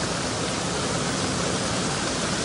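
A downpour of heavy rain fills the air with an unbroken, loud wash of noise, even and continuous from start to finish, with nobody speaking.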